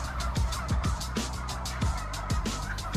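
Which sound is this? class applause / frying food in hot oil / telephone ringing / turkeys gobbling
turkeys gobbling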